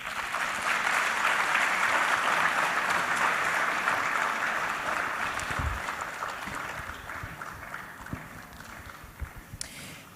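A conference audience at a West African capital market event applauds after a presentation, a dense wash of clapping that stays loud, then thins out and fades to a few scattered claps.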